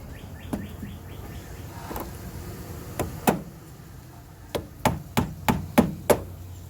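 Plastic retaining clips being pushed down and clamped in while a 2002-2006 Nissan Altima bumper is installed give a string of sharp clicks and knocks, several of them in quick succession near the end.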